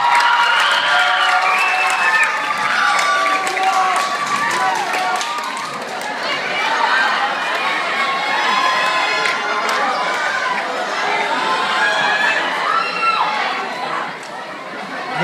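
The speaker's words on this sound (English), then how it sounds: "I think we need to give them a very big round of applause." School Christmas concert audience applauding and cheering for teachers called onto the stage, a steady, loud wash of clapping with shouts and crowd chatter throughout, children's voices mixed in.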